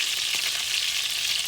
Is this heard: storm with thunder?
no